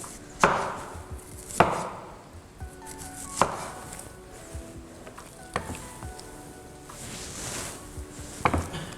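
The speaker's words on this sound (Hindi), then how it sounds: "प्याज हम स्लाइसेस काट लेंगे बारीक।" Onions sliced thin on a cutting board, with several sharp, well-spaced knife chops landing close by amid quieter handling sounds.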